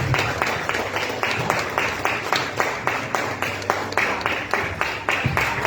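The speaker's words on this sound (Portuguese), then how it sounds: "aplauda o Senhor, Ele merece" A church congregation claps in a steady rhythmic beat, many hands together, moderately loud and continuous over a low hum of the room and faint voices.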